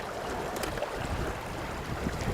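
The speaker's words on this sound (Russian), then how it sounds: "Есть только шум воды" Water rushes steadily past the hull of a motor boat with a 65 hp engine that runs nearly silent in fifth gear, a constant close wash of water with light wind noise and no audible engine tone.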